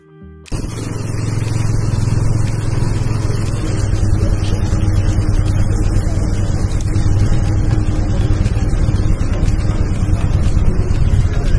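A motorized tricycle ride in Infanta Quezon, with a loud, close engine droning steadily after a brief start and rattling along without a break.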